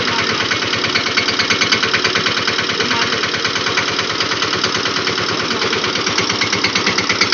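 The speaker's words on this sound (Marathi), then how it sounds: "चला फायनली ट्रॅक्टर चालू झालंय." A farm tractor engine running steadily in a village field, with a loud, close, rapid pulsing thump that keeps an even rhythm throughout and no voices over it.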